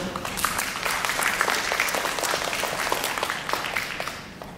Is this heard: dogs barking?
no